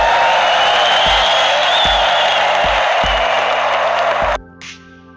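Large audience giving thundering applause, a dense continuous roar of clapping with rhythmic low thumps, then cutting off abruptly near the end into near quiet.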